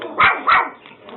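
A dog barks twice in quick succession, close and loud, followed by a softer trailing yip, with no talk.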